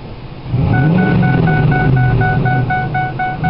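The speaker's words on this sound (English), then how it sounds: "Give it a quick little rev." A 2004 Ford F150 XL with a Thrush muffler gives a quick rev, a deep exhaust growl that swells and holds for a couple of seconds before settling, recorded up close with no talking.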